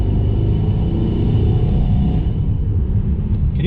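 A Mercedes-AMG E63 with the M177 V8 engine and CTS turbo intakes holds a loud, steady low rumble under throttle, with a heavy growl close by and no talk.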